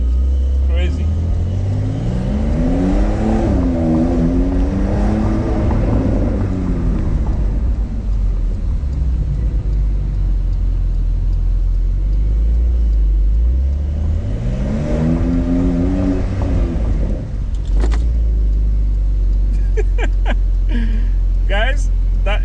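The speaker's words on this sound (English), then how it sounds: "that is how a Porsche 911 is driven" A 2024 Porsche 911 Carrera Cabriolet is driven hard, its engine revving up and down in two loud, rising and falling sweeps with gear changes, close and dominant, with people talking over it.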